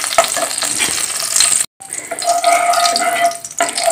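Ghee heating in a pan for basanti pulao, stirred with a utensil: close sizzling and scraping with clinks, a sharp momentary gap, then a hissing, watery-sounding sizzle continuing.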